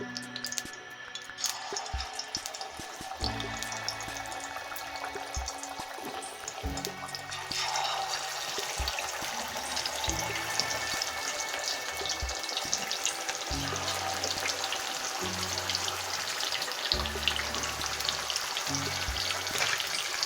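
Fish pieces frying in hot ghee for a fish curry, a steady broad sizzle that swells after the first seconds, with occasional low clatter and watery sounds, continuous and close.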